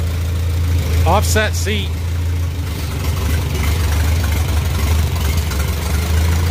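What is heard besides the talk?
small tractor engine running after starting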